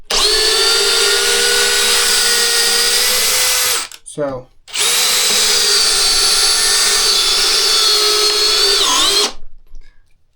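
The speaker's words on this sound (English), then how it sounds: "And you can see that much faster with the drill." A DeWalt XR 800 cordless drill spins at full speed in a steady, loud whine for about four seconds, stops briefly, then runs again for several more seconds before winding down; one short spoken word falls in the pause.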